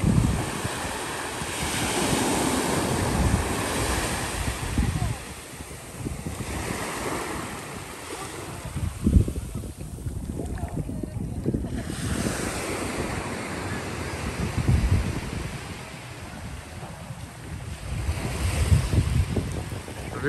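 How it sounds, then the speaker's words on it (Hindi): Ocean waves roll in and break on a beach in Phuket, Thailand, making a continuous loud wash of surf with rising swells and some wind buffeting the microphone. No one speaks. "ये देखें किस तरह लहरें आती हैं।"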